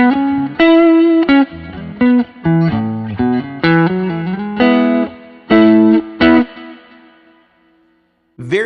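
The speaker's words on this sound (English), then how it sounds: "Now I'm going to bring in the delay component. We're just going to see what that adds." Electric guitar with a clean tone and a subtle delay pedal plays a blues-rock lick through an amp: a run of bright, close single notes and double-stops that fade into a soft ringing tail, with a brief pick attack at the end.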